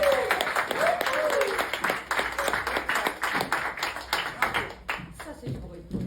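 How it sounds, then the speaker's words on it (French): An audience gives Katia an ovation, sustained close clapping filling the room, with a voice speaking briefly over the start. "Et je vous demande de faire une ovation à Katia."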